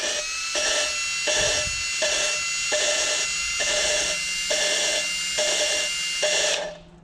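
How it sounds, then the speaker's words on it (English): A drill spins a part held in its chuck during a Raptor 350 head rebuild, a steady whine pulsing in even bursts about every 0.7 seconds before stopping near the end, close and fairly loud with no talk. "Basically, just have that in the drill chuck."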